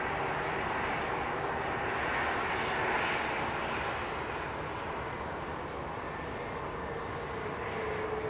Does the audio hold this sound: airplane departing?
yes